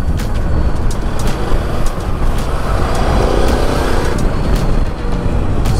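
A Ducati Multistrada V2S motorcycle being ridden, with a steady, loud rush of engine, road and wind noise that holds without a break and carries no talking.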